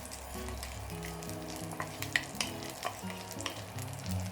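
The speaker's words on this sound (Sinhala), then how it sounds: "දැන් මේ ඔක්කොම හොඳින් මිශ්‍ර කරගන්න තමයි තියෙන්නේ" Jackfruit seeds and sprats being stirred in a frying pan, with a steady oily sizzle running throughout and clacks of a spoon scraping against the pan rising above it at irregular moments.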